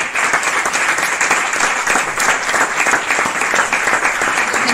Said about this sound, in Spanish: Mi aplauso, mi felicitación y todo nuestro apoyo a este proyecto.